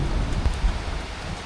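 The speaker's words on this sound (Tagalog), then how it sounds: "Oh, lakas ng ulan." Heavy rain pours in Finland in August as a steady, loud, broadband wash with a few dull low thumps, continuous and close, with no voices.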